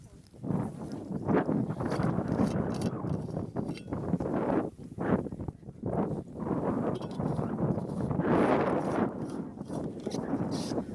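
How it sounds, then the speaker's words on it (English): Steady outdoor wind buffeting and rushing across the microphone on a trek to Landmannalaugar, Iceland, continuous and fairly loud, with faint voices talking underneath. "It's a bit windy."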